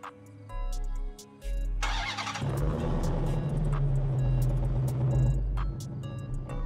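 A custom one-of-one Hellephant-swapped Dodge Daytona Charger in a GTA roleplay game cranks and fires up, settling into a loud, deep idling rumble that holds steady and close for several seconds with no talking.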